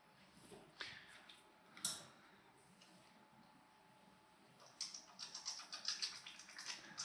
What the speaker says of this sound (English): So the first time we always do a little water purge.